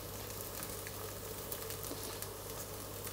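Pancake frying in a pan, a faint, steady sizzle that holds evenly throughout without talk.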